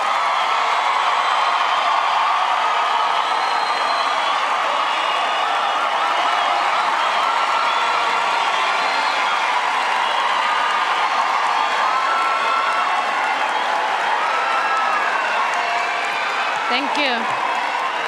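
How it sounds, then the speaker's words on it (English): Crowd applause for graduates at an autumn university graduation ceremony, a dense, steady wash of clapping with scattered cheers filling the hall throughout, with a brief spoken thank-you near the end. "Can I ask that we give all of our graduates a big hand of applause?"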